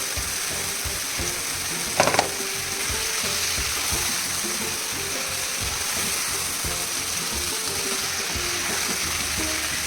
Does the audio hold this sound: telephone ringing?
no